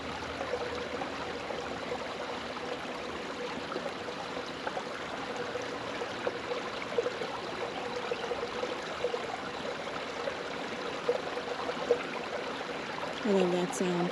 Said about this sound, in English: On this side I can hear water.